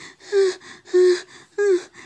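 A voice imitates a tortoise panting with three loud, drawn-out breathy gasps spaced evenly about half a second apart, close and alone.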